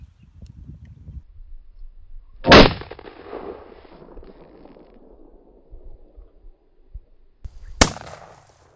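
A shotgun fires cut shells into a stack of textbooks outdoors, two loud close blasts several seconds apart, each with a rumbling tail, under faint background noise.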